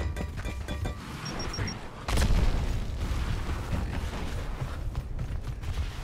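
A grenade explodes in a first-person shooter match with a sharp boom partway through. Tinny gunfire and game noise run around it.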